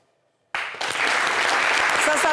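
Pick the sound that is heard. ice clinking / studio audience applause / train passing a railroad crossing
studio audience applause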